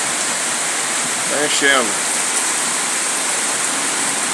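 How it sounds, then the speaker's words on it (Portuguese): Heavy rain with hail pours steadily onto roof tiles as a dense, even hiss throughout, and someone speaks briefly over it. "Ó, muita chuva aí, galera"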